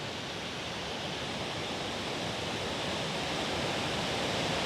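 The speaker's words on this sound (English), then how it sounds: "You can start to see the waterfall through the trees" A loud waterfall in the woods on the Cat Hollow Trail in Dayville, Connecticut roars as a dense, unbroken wash of rushing water, constant and close throughout.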